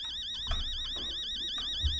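An alarm clock rings in the horror game Fears to Fathom with a steady, warbling electronic tone that runs the whole time, broken by a couple of soft thumps.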